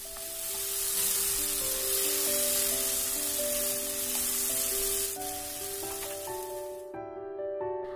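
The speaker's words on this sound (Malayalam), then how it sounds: "ഓരോരോ സൈഡും ഇതുപോലെ നമുക്ക് മറിച്ചിട്ട് കൊടുത്ത് നമുക്ക് ഫ്രൈ ചെയ്തെടുക്കാം." Pineapple pieces fry on a tawa with a steady, bright sizzle that carries on for several seconds, joined by a melodic background tune, then drops away near the end.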